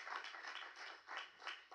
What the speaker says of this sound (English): I would like to just give our high schools another round of applause.